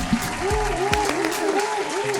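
A small group claps steadily for about two seconds, close by, with some voices mixed in.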